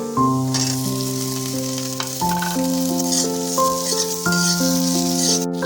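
Chopped tomato, cubed onion and cubed capsicum fry in a pan, giving a continuous loud sizzle close up, with sustained tonal notes and soft clatter running underneath the whole time.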